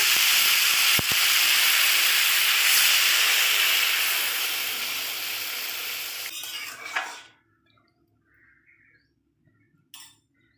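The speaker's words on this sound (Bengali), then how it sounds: "তো দেখো ঝোলটা ফুটে উঠেছে" Curry gravy thinned with water boils hard in a pot, giving a loud continuous hissing bubble that fades and cuts out, followed by a few faint clinks of utensils.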